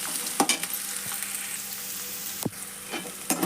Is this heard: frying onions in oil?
yes